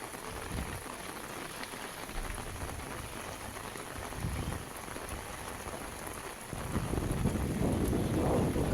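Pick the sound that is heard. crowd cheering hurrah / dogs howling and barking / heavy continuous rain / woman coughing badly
heavy continuous rain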